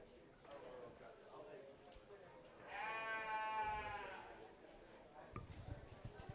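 A sheep bleats once, loudly and wavering for about a second, during a lamb market show at a county fair, with faint crowd murmur and a voice talking quietly in the background.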